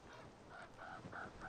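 Hooded crows on the Norwegian coast, harassing a sea eagle, give a series of faint, hoarse calls that grow stronger toward the end, set against a steady outdoor hiss.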